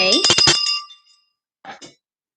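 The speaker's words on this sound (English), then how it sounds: "Let me ring the bell again" Small hand bell rung during a live chat stream, a bright ringing strike with a few quick repeated dings that fades, followed by a softer second pair of rings.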